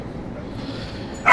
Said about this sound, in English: I do apologise for my dog.